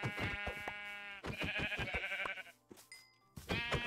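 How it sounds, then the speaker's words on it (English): Several sheep in Minecraft bleat in quick overlapping bursts, loud and close, with short pauses between calls and no talking. "I just watched these sheep spawn on top of each other."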